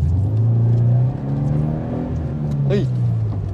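Car engine revving hard during a drift, with a loud sustained drone that dips briefly and climbs again as the throttle is worked, under a voice talking through it.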